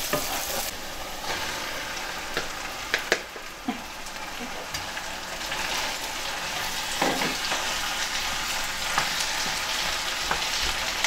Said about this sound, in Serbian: Mjesto pržim sve dok se ne razdvoje ove bobice, kako je mleveno.